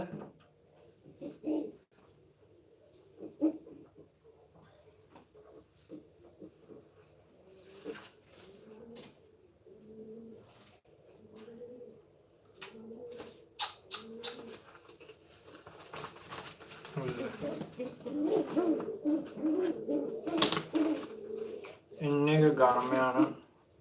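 Pigeons coo softly in low, repeated bursts, with wing flaps and a person speaking near the end.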